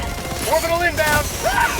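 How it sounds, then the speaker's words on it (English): An orbital barrage strike in the video game Helldivers 2 crashes and booms loudly and continuously, with mechanical clatter and rising whines sweeping overhead, the chaos filling the whole stretch. "Orbital barrage incoming. Stand clear."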